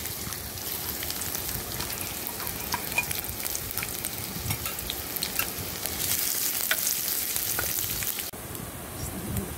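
Whole cardamom pods crackle in hot oil for a pointed-gourd dorma gravy, giving a dense, steady sizzle with scattered pops that runs the whole time without talk.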